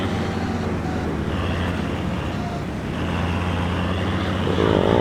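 A tractor engine in a farming video game drones steadily and continuously at a moderate, close level, with a deep low rumble that holds throughout and swells slightly near the end.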